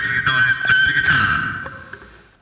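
Tapping on the microphonic pickup of an Ibanez GRG121SP electric guitar, heard through an amp with effects: a few sharp knocks followed by a ringing, echoing metallic tone that gradually decays.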